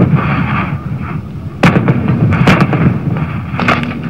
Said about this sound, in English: This combined artillery battalion is made up both of 175mm guns from America and 130s from Russia